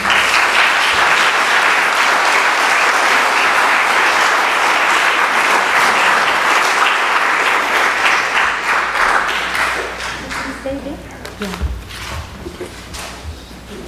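Sustained audience applause after a talk by Raquel Rolnik, UN Special Rapporteur, steady and loud for about ten seconds, then thinning to scattered claps and a few voices as it fades.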